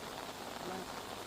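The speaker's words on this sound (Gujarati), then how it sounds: "મહીસાગર જિલ્લામાં વહેલી સવારથી અનરાધાર વરસાદ છે તે વરસી રહ્યો છે" Heavy early-morning rain falls on Suva village in Lunawada, Mahisagar district, a steady, even hiss, faint and continuous, with a voice briefly audible.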